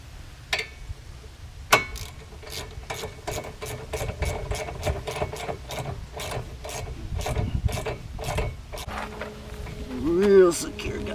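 A ratchet wrench clicks in quick repeated strokes while a bolt is tightened during a sports brake install on a Cadillac CTS, steady close-up ratcheting with brief pauses and a clunk near the end.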